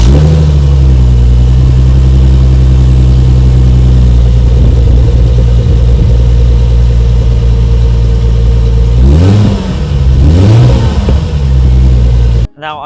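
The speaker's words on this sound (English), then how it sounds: "it's got a V6 3 litre. Clue number 2, it's a hardtop convertible. And clue number 3, it sounds something a little like this." A 2005 Mercedes-Benz hardtop convertible with a 3-litre V6 idles loud and close with a steady low rumble, then gives two quick revs before settling again.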